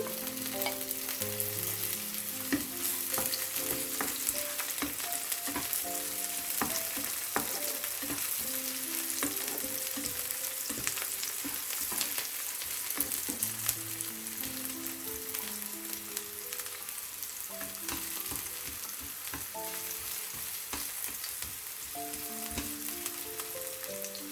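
Garlic added to hot oil with onions sizzles and crackles steadily in a pan while cooking spinach, a continuous busy frying hiss with occasional stirring scrapes, close and even throughout with no talking.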